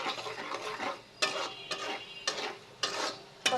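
A thick pickle cooking with jaggery and sugar is stirred in a pan, a soft bubbling sizzle broken by five or six distinct scraping strokes at a steady rhythm, fairly quiet and without talk.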